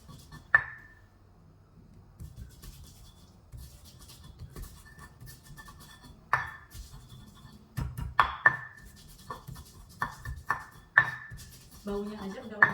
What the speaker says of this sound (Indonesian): Kemudian akan saya haluskan bawang putih, garam,